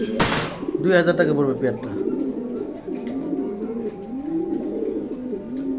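Racing pigeons coo in repeated soft, throaty, warbling calls close by, while someone talks over the first part.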